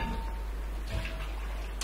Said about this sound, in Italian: Versiamo un po' di vino bianco e un bicchiere d'acqua.